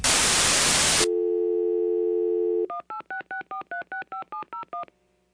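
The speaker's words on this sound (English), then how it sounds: "I'm going to go ahead and give that phone call just one more try" A landline phone call is dialed: a loud burst of static hiss, then a steady dial tone, followed by a quick run of about ten evenly spaced DTMF keypad beeps and a faint tone at the end.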